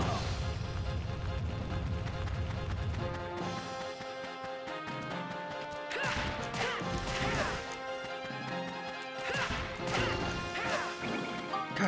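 Quick sword strikes by Monica in Dark Cloud 2, a series of crisp slashing hits and crashes landing in fast succession over bright looping game music.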